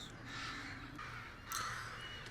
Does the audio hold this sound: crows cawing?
yes